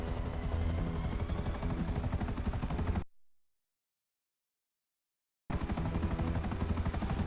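Helicopter in a PS4 video game, a loud, steady rotor chop with dense low thumping that runs for three seconds, drops out to silence, then returns just as strong.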